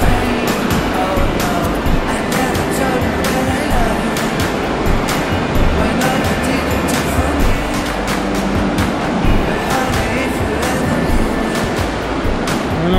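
Surf rolls in steadily at Arenales del Sol beach in Elche, a continuous broad wash of breaking waves with light wind buffeting throughout, loud and close with no talk.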